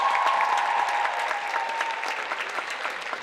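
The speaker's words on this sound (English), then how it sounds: "All right, one more round of applause for our fabulous board." A full audience applauds the board at a dance show, a broad sustained roar of clapping that fades slightly over a few seconds, with a faint voice at the start.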